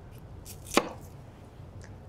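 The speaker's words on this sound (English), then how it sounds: "cutting an onion if you don't cut the end off" A single sharp knife cut through an onion on a cutting board, one crisp close chop against a quiet background with a couple of faint softer knocks.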